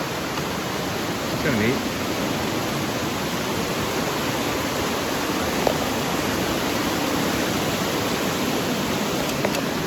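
A rushing river flows beside a cliff trail, giving a steady, loud broadband roar that fills the whole scene without pause, while a person speaks briefly over it.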